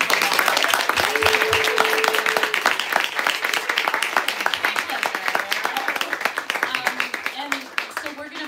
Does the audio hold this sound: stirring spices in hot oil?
no